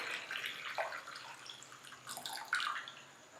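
Hot water poured into a bowl while making jelly for a custard drink. The splashing and trickling pour is faint and uneven, with a brief louder splash near the end.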